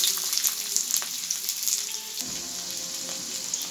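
Chopped onions fry in hot mustard oil in a kadai, a loud close hiss and crackle that settles into a softer, steady sizzle partway through, with no talk.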